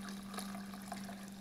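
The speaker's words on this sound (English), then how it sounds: "here's the pot, and then I just add water to it." Water runs into a cooking pot being filled for tortellini soup, a steady faint rushing stream with a low constant hum underneath, no one speaking.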